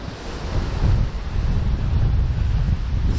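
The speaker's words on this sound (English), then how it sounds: "oh it is very, very windy" Strong wind at a campsite, with rain starting, roars steadily against the microphone in a loud, low rumbling buffet. No voices are heard.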